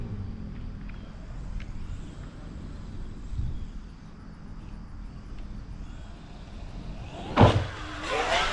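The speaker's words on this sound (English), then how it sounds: "Well, we got some traffic" Road traffic with cars passing, a low steady rumble throughout, then a brief louder swell near the end, no voices.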